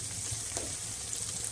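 Soy sauce hitting stir-fried gnocchi with vegetables in a hot pan, giving a steady, close hiss and crackling sizzle that runs throughout without speech.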